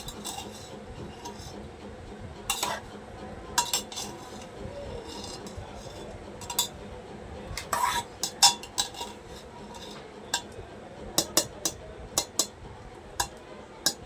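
A spoon stirring black masala chicken in a pot, a low scraping rub with intermittent sharp metallic clinks against the pot sides, irregular and growing more frequent toward the end.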